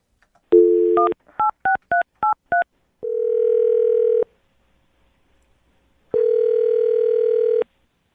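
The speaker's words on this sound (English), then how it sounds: "I'm going to dial his phone number right now." A short burst of touch-tone telephone dialing beeps in quick succession, framed by a steady dial-style tone before and after, loud and close with no talking.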